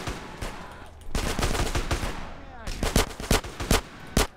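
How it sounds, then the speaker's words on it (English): Micro SMG gunfire in GTA San Andreas comes as rapid automatic bursts of sharp shots, loud and close, separated by short gaps, with background game noise and a voice talking under parts of it. "The problem with the micro SMG with no skill is I'm just missing all these shots quite a lot."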